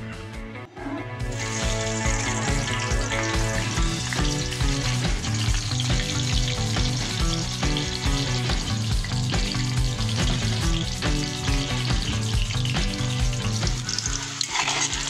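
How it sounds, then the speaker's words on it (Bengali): A few pieces of eggplant fry in oil left over from frying fish, giving a loud, steady sizzle with occasional stirring clatter throughout and no talking. "মাছ ভাজার তেলটার মধ্যে কয়েক টুকরো বেগুন ভেজে নিচ্ছি।"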